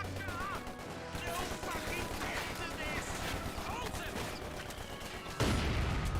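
Company of Heroes 2 battle: a Vickers machine gun position takes a mortar hit amid rattling bursts of machine-gun fire and scattered explosions, ending with a heavy close impact, while a voice talks underneath.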